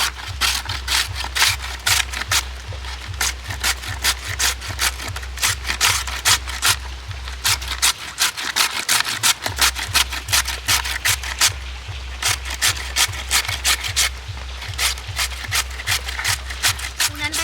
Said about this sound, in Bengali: গ্রেটারের সাহায্যে আমি আলুগুলোকে গ্রেট করে নেব